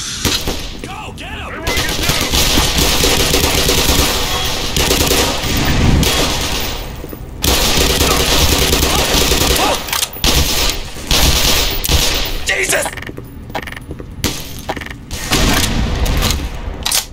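Loud, sustained automatic gunfire from the Black Mesa game, rapid bursts rattling almost without pause for most of the stretch, broken by a few brief gaps and heavy impacts.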